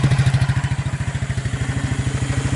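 Suzuki KingQuad 300 ATV engine running on a clone carburetor, a steady loud rapid thumping idle with even pulses, close up and alone.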